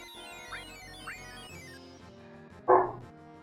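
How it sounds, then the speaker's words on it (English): A dog barks a few times off in the background, faint yips around the first second, then one louder bark near the end over a quiet room with a low steady hum. "I do apologize if you can hear the dog barking"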